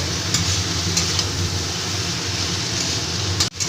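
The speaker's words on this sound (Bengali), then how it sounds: "এবার আমি এই শুকনো কলমি শাকগুলোকে আমি দিয়ে দিচ্ছি" Dried water spinach greens frying with already-fried vegetables for a chorchori, a dense, even sizzle throughout with light stirring scrapes and a brief sharp knock near the end.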